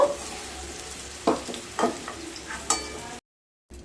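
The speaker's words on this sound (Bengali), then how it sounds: "হালকা ভেজে নিতে হবে বিনসগুলো বেশি ভাজবেন না" Beans fry lightly in a pan with a steady low sizzle, broken by a few sharp scrapes and stirs of a spatula, then a short silence near the end.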